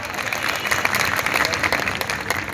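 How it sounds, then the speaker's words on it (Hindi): Audience applause at a political rally speech in Sultanpur: dense, steady clapping from a crowd that stays loud and even for its whole length, with no voices over it. "तो जितने लोग ताली बजा रहे हैं"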